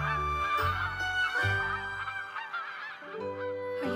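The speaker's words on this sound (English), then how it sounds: "A goose like Skyla should be with her flock." A cartoon goose honks repeatedly as it departs, loud and close, with a strong tonal squawk layered over a bright orchestral music bed throughout.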